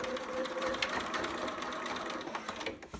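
A sewing machine back stitching fabric near elastic, its needle running in a fast, steady mechanical whir for a few seconds, close and even before easing off at the end.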